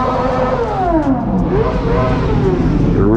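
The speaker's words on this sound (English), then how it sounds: "Oh, got an S1K pulling up." A BMW S1000RR sportbike idles and pulls up at a gas station, with a steady engine drone and gently shifting revs, loud and close throughout.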